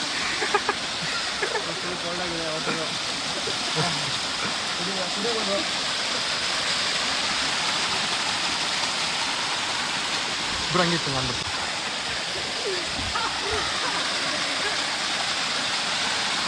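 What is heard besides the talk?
flowing river water of the Bhadra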